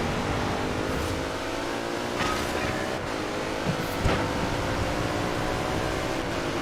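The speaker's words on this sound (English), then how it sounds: "Let's engine brake here" Engine note of a car in the video game Forza Horizon 4 on a wet road, dropping and holding steady with faint harmonic tones under a constant loud roar, with brief bursts of higher noise.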